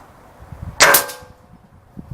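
A Diana Stormrider .177 PCP air rifle fires a pellet, giving one sharp, loud crack with a brief metallic ring, close by against a quiet background.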